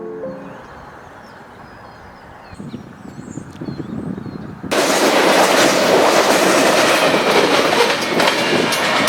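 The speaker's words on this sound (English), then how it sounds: "You got BNSF coming through here." A BNSF freight train passes on a secondary main line, rumbling gets louder as it approaches, then rhythmic wheel clatter and a loud, dense roar close by, with no talking.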